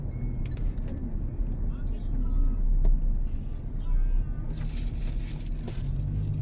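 Inside a car crawling through a traffic jam on the Jagorawi toll road, a low, steady engine and road rumble runs throughout, while passengers talk and a voice cuts in over it.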